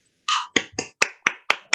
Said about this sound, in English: give a round of applause to David for his talk and for the discussion